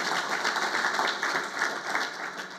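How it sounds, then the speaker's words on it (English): A conference audience gives FID staff a round of applause during an opening address, a steady, dense wash of many hands clapping at even loudness throughout. "Give them a round of applause, please"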